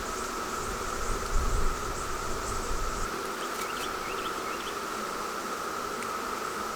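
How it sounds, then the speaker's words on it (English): Honeybees flying around a hive on orientation flights outdoors: a steady, close buzzing drone with a constant hum throughout, some low rumbling handling noise early on, and no voices. "Now the bees out here, they're already kind of doing orientation flights."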